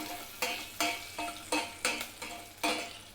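Mustard seeds, urad dal and asafoetida sizzle softly in hot oil while a spoon scrapes and stirs the pan in about seven regular, close strokes.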